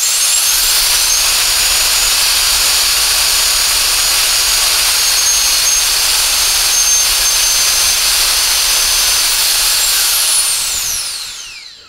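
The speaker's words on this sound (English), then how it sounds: "The one-touch turbo boost mode gives you 11 seconds of use and delivers strong, consistent airflow when you need it most." A Kica Jet Fan MAX handheld jet fan runs in turbo boost mode, a loud, steady high-pitched turbine whine that holds for about eleven seconds before spinning down, with no talk.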